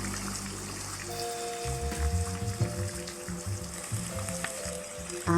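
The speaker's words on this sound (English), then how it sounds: "I can just lay here and listen to the rain all day." Steady rain falling with a soft, even hiss like sizzling that runs throughout, with faint tonal notes drifting over it and no talking.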